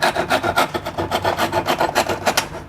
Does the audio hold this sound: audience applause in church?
no